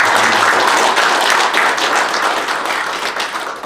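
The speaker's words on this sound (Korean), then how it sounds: "그 회의 시작 전에 한번 박수 한번" Audience applause at a Korean general meeting, a dense burst of clapping from a seated crowd just before proceedings begin, loud and steady, tapering slightly toward the end.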